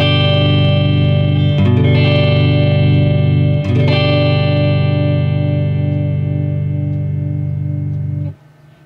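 A distorted electric guitar rings out a full chord fretted with all four fingers, including the pinky, in a beginner lesson. It is strummed twice in quick succession and left to sustain loudly before being cut off near the end.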